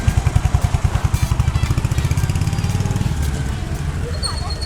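A Royal Enfield Hunter 350 fitted with a belt drive thumps close by with a loud, steady single-cylinder pulse that settles into a smoother drone as it moves off.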